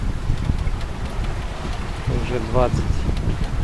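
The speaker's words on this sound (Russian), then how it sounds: "Так, ветер потихонечку набирает обороты." Steady wind rushing and buffeting the microphone aboard a sailboat on open water near the Strait of Messina, with a voice speaking briefly partway through.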